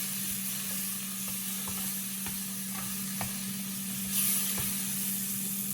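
Butter sizzles in a pan for Jack Daniel's chicken wings, a steady close hiss under an electrical hum, broken by light scraping taps of stirring and a brief spit of steam.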